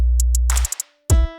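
An FL Studio drum-machine clap layered with crisp finger snaps, short sharp hits over a low sustained bass tone, then a pause before deep booming 808 hits return.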